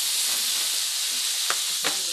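Shrimp frying in garlic butter in a pan, a steady close hiss of sizzling with two brief sharp spatter pops near the end.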